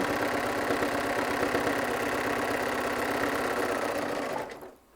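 A sewing machine runs a steady continuous line of stitching while making an airplane caddy, its rapid mechanical whir holding an even level and stopping abruptly near the end.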